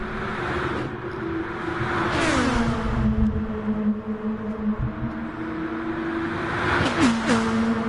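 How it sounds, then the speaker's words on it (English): High-revving 2-litre touring car engines shoot past on a race circuit, rising and falling whines with pitch sweeps as cars pass close, over a constant crowd-like background roar. "you can hear those high revving 2-litre motors shooting past"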